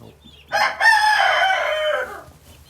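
A rooster crows once inside a chicken coop, loud and close, a drawn-out call rising and falling over about a second and a half.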